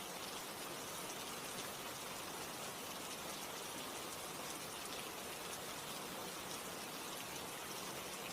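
Steady, even rain falls continuously as a dense hiss with no pauses or voices, neither very near nor loud.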